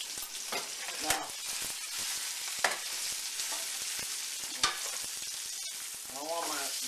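Garlic frying in a pan gives a steady, close sizzle with a few sharp clacks of stirring scattered through it, and a brief voice-like murmur near the end.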